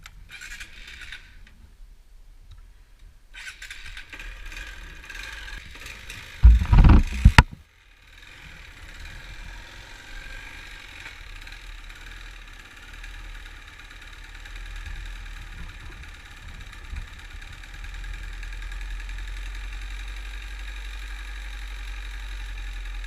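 A motorbike engine idles with the choke on, a low steady rumble under a faint hiss, interrupted by a short loud burst of handling knocks before the idle settles again and grows slightly stronger toward the end.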